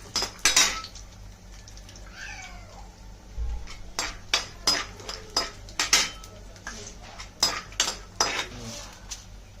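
Peanuts roast on a medium flame in a pan for wheat rava upma while a metal spoon stirs them, giving repeated close scraping clinks and clatters in an irregular rhythm.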